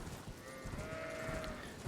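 Sheep bleat in the Elden Ring video game, a single drawn-out wavering cry over a steady ambient background.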